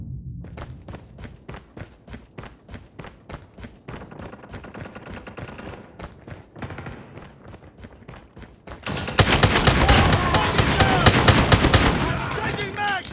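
Rapid repeated gunfire from a Striker shotgun in the mobile shooter game Call of Duty Mobile, loud and close, rising into a dense continuous burst of shots near the end.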